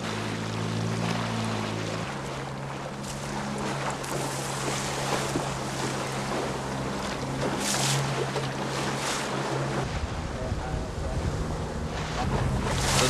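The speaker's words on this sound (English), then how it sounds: "Doesn't take much of that wind action to get it a bit surfy looking." Steady wind roars across choppy, surfy open water, recorded from a fishing boat, with waves washing and buffeting microphone noise throughout.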